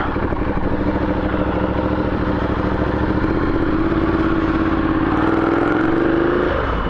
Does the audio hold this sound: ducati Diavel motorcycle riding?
yes